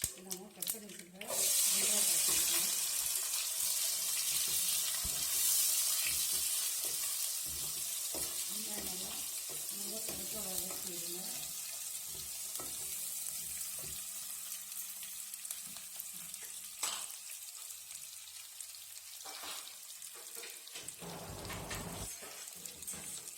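Small shallots sautéing in hot oil with mustard seeds and dried red chili in a pan for Tamil mor kuzhambu, a steady close sizzle with stirring scrapes and a brief tap-water run near the end.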